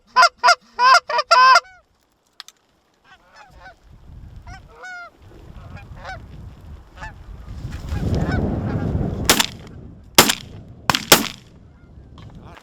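Canada geese honk in a rapid cluster of calls over a late-season hunting spread at Quill Lake, North Dakota, then wind noise rises and several sharp gunshots crack out toward the end.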